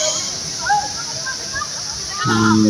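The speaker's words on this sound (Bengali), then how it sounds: "গুড়ি গুড়ি একটা বৃষ্টি আছে" Light drizzling rain patters softly and steadily outdoors, a faint continuous wash of fine drops, with a voice briefly heard near the end.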